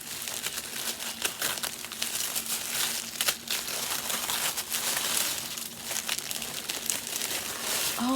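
Paper crinkling and rustling as a package is opened, a continuous close crackling texture that runs throughout with no talk over it.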